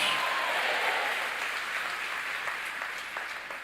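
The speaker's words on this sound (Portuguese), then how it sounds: "Pode dar salva de palmas ao Senhor" Congregation at a church service clapping together, a dense, steady wash of applause that slowly fades over a few seconds.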